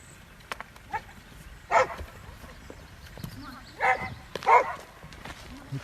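A dog barks in short, separate bursts, with about three sharp barks near the listener against quiet outdoor background noise and faint other sounds.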